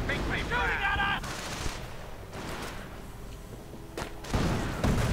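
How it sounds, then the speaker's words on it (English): Gunfire from an armored car in a World War II real-time strategy game match, a few loose bursts of shots popping and rattling amid dense battle noise, with crackling effects and booms layered over continuous background din. "Armored car firing off a few loose shots"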